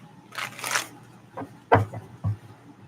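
Tarot cards riffle in a quick rustling burst, followed by a few soft taps and thumps as the deck is squared up.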